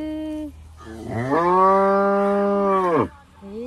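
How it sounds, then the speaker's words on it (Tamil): A cow, calling for its suckling calf, lets out one long, loud, close moo that swells and holds for about two seconds, with shorter lowing sounds just before and after. "மாடு கத்துக்கு போகிறான்."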